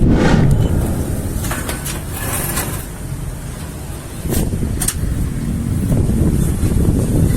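Steady wind rushes and buffets the microphone in a continuous low roar, with a few brief gusts standing out over the rumble.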